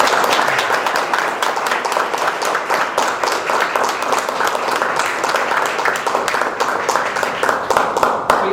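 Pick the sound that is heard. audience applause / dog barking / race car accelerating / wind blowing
audience applause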